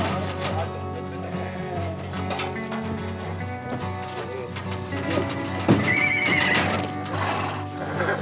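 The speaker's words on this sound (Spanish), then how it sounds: "vemos cómo acomodar de la manera más segura los caballos, porque pues viene mucho caballo" Horses, among them entire stallions, whinny and shuffle while being unloaded from a trailer and settled for a trail ride, with a loud clear neigh late on over constant hoof and crowd bustle, birds cooing nearby.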